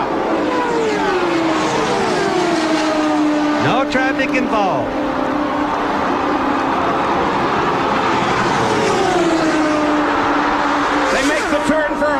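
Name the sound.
Indy race cars at speed on the last lap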